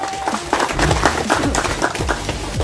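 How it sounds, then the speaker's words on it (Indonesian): A crowd applauds at a bonsai demonstration, with dense, fairly loud clapping running steadily throughout alongside some voices. "Tepuk tangan dulu."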